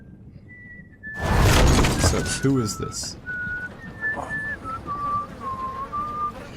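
Eerie, wavering whistled tones drift up and down in a Game of Thrones video game scene, thin and sustained against a burst of noise and someone speaking over it.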